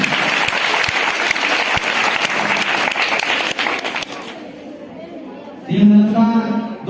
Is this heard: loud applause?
yes